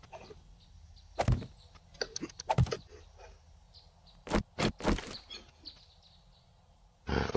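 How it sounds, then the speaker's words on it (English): Birds in the 7 Days to Die video game beating their wings in short, sharp flurries, several bursts spread over a few seconds against quiet game ambience. "Hear their wings flapping."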